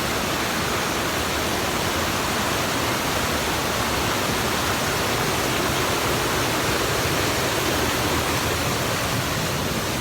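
Water pouring steadily off a mountain onto a wet hiking trail, with nearby waterfalls. It makes a loud, continuous broadband rush with no break for the full length and no voices.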